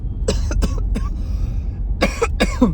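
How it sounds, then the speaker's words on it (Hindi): Several close, harsh coughs, a pair of bursts, a pause, then another pair over a low background rumble. "मुझे एक खांसी इसी स्प्रे की वजह से हो रही है"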